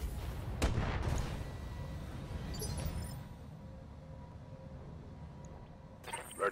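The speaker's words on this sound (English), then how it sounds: "And we'll just use breaching shots. Fire." Mechs fire breaching shots in the BattleTech video game, heard as heavy booming artillery-like blasts up front that give way to a low rumbling tail, with a sharp sound near the end.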